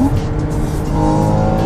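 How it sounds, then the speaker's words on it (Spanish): A Porsche engine blips and drops through gears, a steady loud mechanical drone with shifting engine tones heard close up, with no talking over it. "Escuchen los downshifts."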